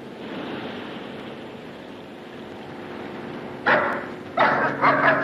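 A dog barks in a comedy film scene: steady background noise runs throughout, then a few loud, close barks burst out near the end in quick succession.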